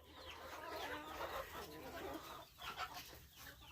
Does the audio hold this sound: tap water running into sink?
no